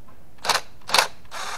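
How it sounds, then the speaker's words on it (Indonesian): Bolts being loosened on the ignition coil of a 2014 Chevrolet Aveo Sonic, heard as three short, sharp mechanical ratchet-like bursts close by, with quiet pauses between them. "Oke, bautnya ini kita buka dulu."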